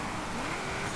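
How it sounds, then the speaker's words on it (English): A supercharged V8 muscle car in the Forza Horizon 5 racing game holds a steady, dense engine roar for about a second, loud and continuous without pauses. "This is a glorious sounding V8 with that supercharger going on behind."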